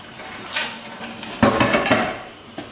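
Peanut paste and water are stirred in a pan for an amaranth dish, with a spoon scraping and knocking against the pan in a few irregular clatters, close and without talk.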